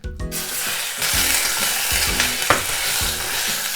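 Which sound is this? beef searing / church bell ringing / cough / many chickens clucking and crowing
beef searing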